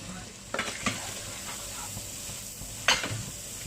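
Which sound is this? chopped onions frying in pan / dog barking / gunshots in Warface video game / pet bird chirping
chopped onions frying in pan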